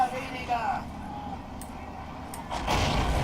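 Tank cannons fire during a large armored battle in the strategy game Men of War Assault Squad 2, heavy booms and rumbling that swell near the end, mixed with battlefield noise and someone talking over it.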